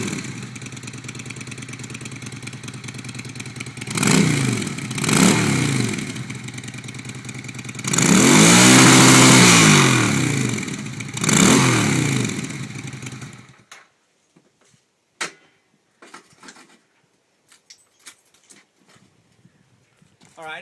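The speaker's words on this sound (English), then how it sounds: "let's start up the bike and get a feel for what it sounds like before the modification" A 2004 Honda Shadow VLX on its stock exhaust sits close by at idle, then answers several short throttle blips and one longer rev before cutting off, leaving quiet knocks and shuffling afterward.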